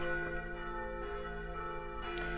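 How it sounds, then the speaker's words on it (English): Church bells ring steadily in the distance, their layered, sustained tones blending together without any talking. "So the church bells."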